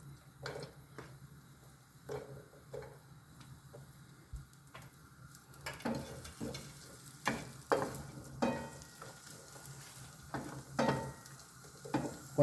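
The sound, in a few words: onions frying in oil in a large pan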